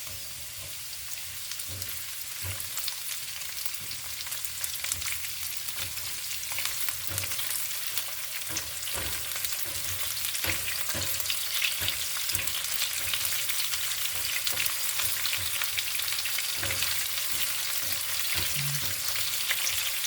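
Onions sizzle and crackle steadily in a pan with garlic, frying for adobong sitaw with spare ribs, with occasional stirring clicks and scrapes throughout.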